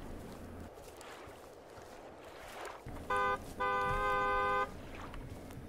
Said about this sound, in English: was that honking in the game?